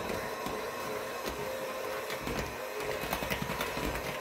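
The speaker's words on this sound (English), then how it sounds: "Go ahead and get the mixer." An electric mixer whirs steadily at a moderate level as it mixes wet and dry ingredients into teacake batter. No voices are heard.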